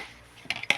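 A spoon clinks twice against a pot while a cornstarch-and-water mixture is stirred into maja blanca, two quick metallic taps over a quiet kitchen background.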